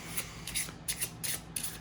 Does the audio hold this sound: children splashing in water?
no